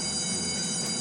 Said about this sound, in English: That's a nice, impressively long train for the game.